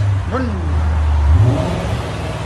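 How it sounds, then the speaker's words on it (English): A Ford Thunderbird's 3.9L V8 is heard close by in a low, rumbling idle with a brief rev that rises and falls, a loud steady drone with a voice briefly over it. "Rev it like this."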